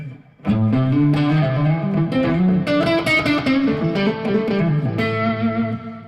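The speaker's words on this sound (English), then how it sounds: "And now the delay in the reverb." Electric guitar rings out through delay and reverb pedals, chords smearing into a washy, echoing tail, continuous and loud, no voices.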